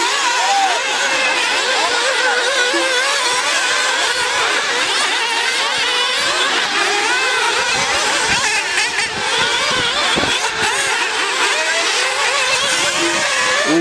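Several nitro RC buggy engines scream continuously during an A-main race on a dirt track, high-pitched and buzzing with rising and falling revs as cars pass, loud and dense throughout.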